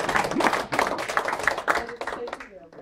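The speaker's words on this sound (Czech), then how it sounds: "Takže to zatleskám." Several hands clap in a quick, uneven patter, close and fairly loud, mixed with voices talking over it before the clapping fades out.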